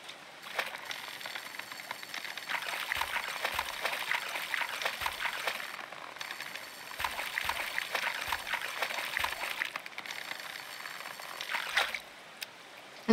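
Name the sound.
waterfall flowing in the video game Coral Island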